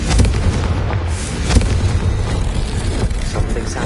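A heavy magical blasting spell in a Harry Potter video game goes off as a loud, rumbling explosion with a deep boom and crackling debris, dense and sustained over a few seconds.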